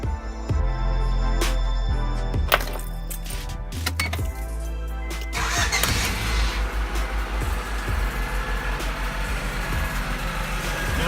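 Honda Accord CB7 with a new dual-tip muffler exhaust starts up and idles steadily, a close, continuous low rumble, with a few metallic clinks and taps early on.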